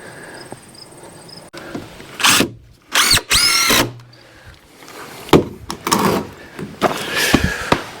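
Cordless drill driving screws into boards, several short bursts of whirring with pauses between them and a longer run near the end, close up and without talk.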